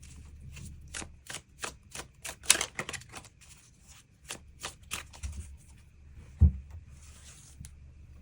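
Tarot cards are shuffled and drawn: a string of crisp, evenly spaced flicks and riffles close to the microphone, followed by sparser slaps and a soft thump as cards are laid down.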